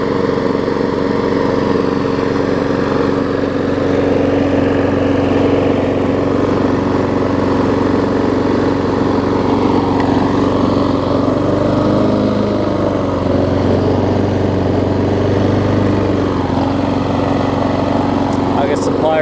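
A Craftsman lawn mower found in a dumpster runs after a carburetor diaphragm replacement, its small engine giving a steady, loud drone close by throughout, with a voice talking over it.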